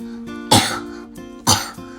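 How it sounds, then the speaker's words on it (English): A sick child coughs twice, two sharp close bursts about a second apart, with faint throat-clearing noises between them and a low tone in the background. "I'm coughing and my head hurts."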